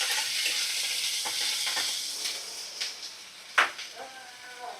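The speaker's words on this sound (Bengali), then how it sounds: "খুব সামান্য একটু আদা রসুন বাটা আর জিরে বাটা দিয়ে দিলাম। মশলাটা ভালো করে কষিয়ে নেব।" Ginger-garlic paste and cumin paste sizzle and fry in a pan for egg biryani, a steady close hiss with scraping stir strokes and a sharp clatter near the end.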